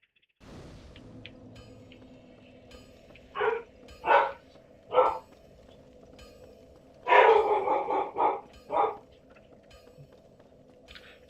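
Several dogs bark in bursts at a household, a few single woofs followed by a rapid cluster of barks, moderately close over a faint steady hum, with no talking.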